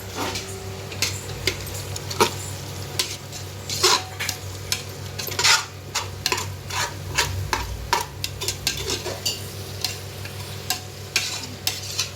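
Prawns sauté in an oiled pan with a constant close sizzle, while a spatula stirs and scrapes against the metal in frequent irregular clinks and scuffs.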